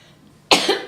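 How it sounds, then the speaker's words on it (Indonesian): During a podcast conversation, one person gives a sharp, close cough followed by a second short cough after a brief silence. "Udah batuknya Kak?"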